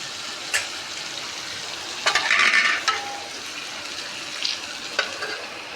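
Meat frying with spices and poppy seed paste in a pan, a steady close sizzle with occasional scrapes and clinks of a stirring utensil, no voices.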